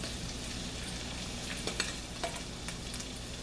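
Butter and onions fry in a skillet with a continuous soft sizzle, broken by a few light clicks and scrapes of stirring, close and fairly quiet.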